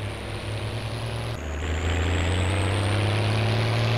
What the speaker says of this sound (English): The empty tractor got a nice sound, hasn't it?